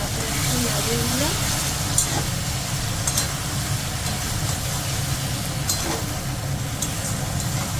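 Mustard and poppy seed paste with green chilli paste sizzling and frying in a pan, a steady broadband hiss running throughout with a low rumble underneath, stirring now and then.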